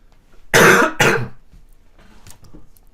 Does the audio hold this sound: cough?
yes